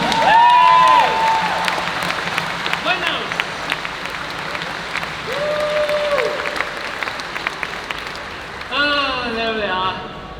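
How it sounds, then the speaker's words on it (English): A convention audience claps and cheers for the winners of a fan Q&A quiz, with broad crowd applause running under loud shouted voices and whoops, then tapering as the noise of the hall goes on. "Give them a round of applause, ladies and gentlemen."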